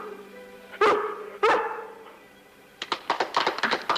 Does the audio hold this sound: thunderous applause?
no